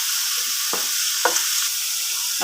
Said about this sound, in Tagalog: Sangkot na muna natin yung chicken guys.